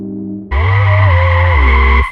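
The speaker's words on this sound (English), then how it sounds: "You hear the car speeding, and there's flames and shit." At a car meet, a Honda engine abruptly roars to high revs with a steady, loud, near exhaust drone and tire squeal for about a second and a half, pitch dipping and rising as it skids, then cuts off sharply.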